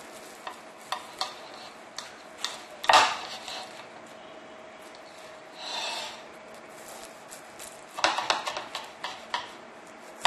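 A knife cuts into a blackthorn pie, giving quiet scattered clicks, scrapes and crisp crackles of crust against a plate. Each sound is short and distinct, with a louder cluster of cuts near the end.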